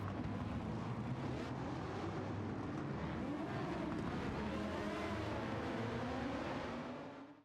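An LT5-swapped Subaru BRZ lapping the Nurburgring in Gran Turismo 7, its engine holding a steady, dense roar with wind noise for several seconds before fading out at the end.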